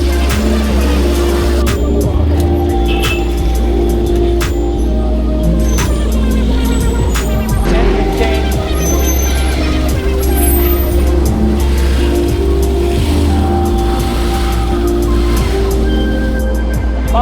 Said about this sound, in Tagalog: Ayan, nagsisimula yung traffic.